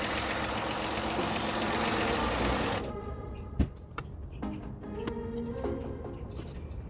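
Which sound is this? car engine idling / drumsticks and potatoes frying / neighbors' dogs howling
car engine idling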